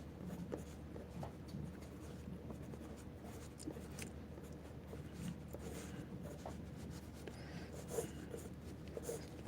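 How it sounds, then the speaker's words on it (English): Pencil drawing on paper, a faint, steady scratching and rubbing that runs close by without a break. "So you can do your drawing."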